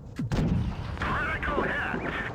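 A tank cannon shot in World of Tanks Blitz, one heavy close boom with a short rumbling tail, followed by lighter game sounds as someone speaks.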